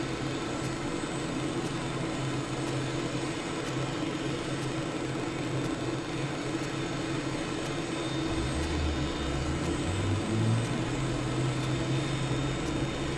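Airliner engine in Microsoft Flight Simulator during a recon flight over Budapest, a steady droning hum with constant tonal whine, shifting slightly lower and heavier near the end as it picks up speed to climb.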